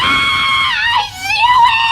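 A voice imitates children screaming, a loud sustained high-pitched wail that dips briefly in the middle and then rises again.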